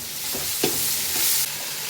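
A handful of mint and coriander leaves sautés in a pan for mutton biryani, a continuous sizzle with a few soft stirring scrapes.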